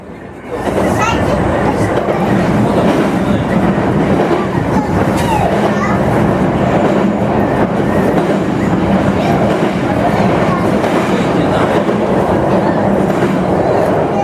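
A JR Hachiko Line train crossing the Tamagawa Bridge over the Tama River, steady loud rumble of wheels on rails with faint clickety-clack, heard from inside the carriage and continuous throughout.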